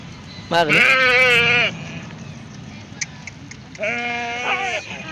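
Two loud, wavering sheep bleats sound close by, separated by a quiet pause with faint background noise.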